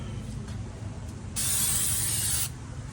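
A single burst of aerosol cleaner sprayed on a 2008 Honda Civic brake rotor hisses for about a second amid a low background hum.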